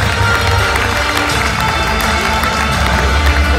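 A large audience applauds at a TSV 1860 München football team presentation, with steady dense clapping and a crowd murmur, loud and continuous throughout.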